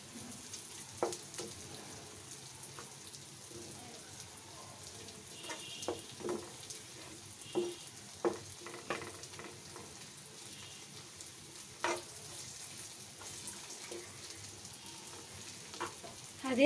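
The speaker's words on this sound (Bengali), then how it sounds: "এভাবে ভাজছি।" Chicken pieces fry with green and dried chillies in a pan, making a quiet, steady sizzle broken by scattered clicks and scrapes from stirring, with no talk.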